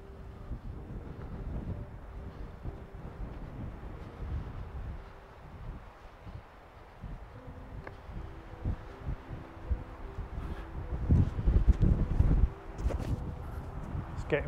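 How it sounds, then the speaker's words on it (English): Wind gusting across a hilltop on a countryside circular walk the day after a storm, low rumbling buffets against the microphone rising and falling, growing stronger toward the end, with someone talking over it. "It's getting really rather windy up here."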